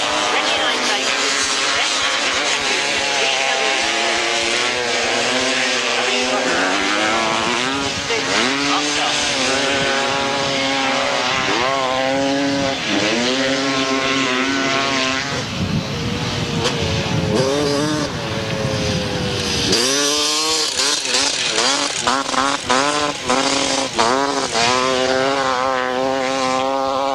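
Grasstrack motorcycles race round a 1992 Collier Street grasstrack meeting, engines screaming loud and continuous with rising and falling revs as bikes pass close, while a commentator talks over the roar.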